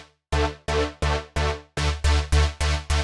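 Bright electro big-room supersaw synth chords made in Reason 8, played as a rhythmic pattern of eight loud sustained stabs, first with equalization applied and then without, alone with no talking.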